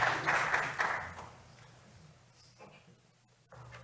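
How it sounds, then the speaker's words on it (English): An audience at an international macroeconomics conference session applauds after a presentation. The clapping is full and loud at first, then thins and fades within about a second and a half, leaving quiet room tone. "round of applause for Hernan"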